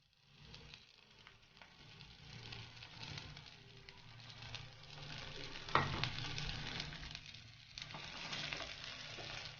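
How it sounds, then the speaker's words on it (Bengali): Hara bhara vegetable kebabs shallow frying in a pan, with a steady close sizzle and crackle that holds for the whole stretch and has a brief louder pop near the middle. No one speaks. "এবার এগুলোকে শ্যালো ফ্রাই করে নেবো।"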